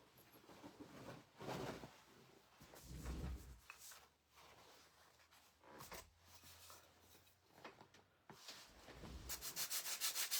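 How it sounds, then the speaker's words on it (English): Hand sanding a wooden craft piece for a shelf sitter, heard as repeated close rubbing strokes in an uneven rhythm, fairly quiet, with no talk. "All I'm doing is sanding."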